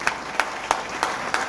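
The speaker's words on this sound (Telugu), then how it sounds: "చప్పట్లు కొట్టాలి ఒకసారి" Several sharp bursts of crowd clapping at a political gathering, five evenly spaced claps about a third of a second apart, moderately loud with a faint murmur of voices beneath.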